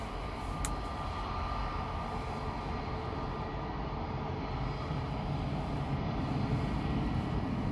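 A Lufthansa airliner at LAX gives a steady, distant broadband jet roar that holds level throughout, with no voices.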